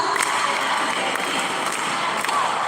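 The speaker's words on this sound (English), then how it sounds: "Clap a big clap for yourself. A super clap." Dense, steady clapping from a seated conference audience, an even wash of many hands with a few sharper claps standing out, continuing without a break.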